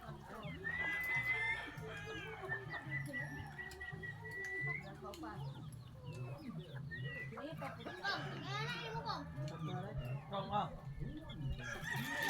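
Chickens cluck, and a rooster crows repeatedly at a rural hut, mid-distance and fairly faint, while people talk and children's voices drift in the background.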